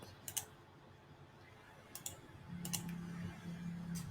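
Faint computer mouse clicks while designing a product frame, a few sharp isolated taps spaced seconds apart over a quiet room hum, with no voice.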